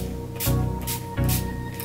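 A NYX Professional Makeup dewy finish setting spray gives two or three short misting bursts in close succession, close-up over soft background music.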